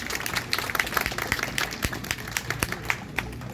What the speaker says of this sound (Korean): 박수를 보내주십시오.